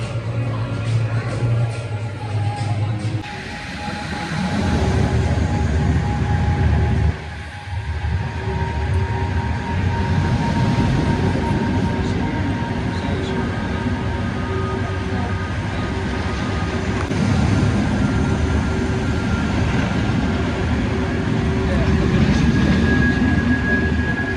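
A launch roller coaster ride on Icon at Blackpool Pleasure Beach: a steady, loud rumble of wheels and rushing wind that swells after a few seconds and holds for the whole run, with faint voices underneath.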